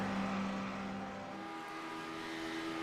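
LMP1 prototype race cars in the iRacing sim at Daytona, a steady loud engine roar as a pack sweeps past, the pitch dropping partway through, with no voices.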